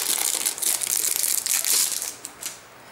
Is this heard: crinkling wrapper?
yes